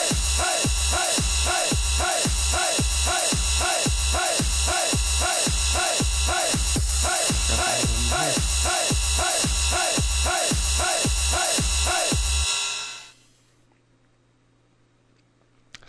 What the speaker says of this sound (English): what you're hearing there is an industrial impact via sidechain compression